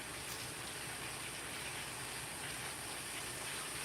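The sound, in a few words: pressure cooker building up steam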